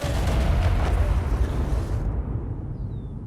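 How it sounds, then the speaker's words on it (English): A booming explosion in the video game ARK: Primal Chaos, a loud, dense rumble that holds steady and then fades into a lingering low roar. "Nothing better than an explosion to, like, really remind you of the dangers that are out there"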